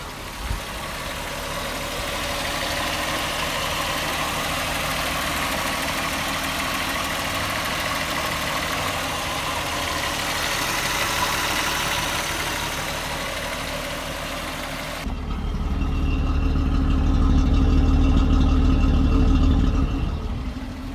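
A Mk4 Volkswagen Jetta engine idles steadily after starting, with a low, even rumble, growing slightly louder and deeper near the end; no one speaks.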